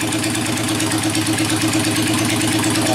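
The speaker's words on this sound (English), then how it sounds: "But it idles perfect." A car engine idles steadily and smoothly up close, a continuous even rumble with no revving, sustained for the whole stretch.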